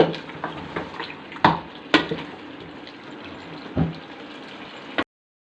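Water being poured from a glass into a pot of chicken gravy during home cooking, heard as a steady pour with a few sharp clinks of the pot and utensils, fairly close and with no talk.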